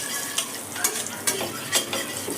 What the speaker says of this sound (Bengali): এবার সমস্ত মশলা তেলের মধ্যে আমি প্রথমে ফ্রাই করে নেব।